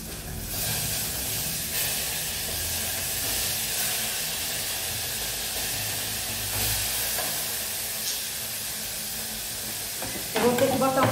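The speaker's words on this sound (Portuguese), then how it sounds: "Eu vou ter que botar um pouquinho de água no frango, porque o frango tá sapecando." Chicken frying in a pan gives a steady, dense hiss that carries on for several seconds. A voice is heard over it, and a brief clatter at the end.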